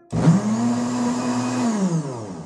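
A kitchen blender switches on and runs with a steady loud whirring motor hum, its pitch dipping slightly toward the end, close and without talk.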